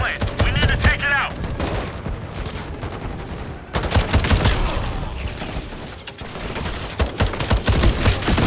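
Dense gunfire rattles through Modern Warfare multiplayer combat, rapid bursts of rifle and machine-gun shots with sharp cracks and impacts, loud and continuous, with voices shouting in between.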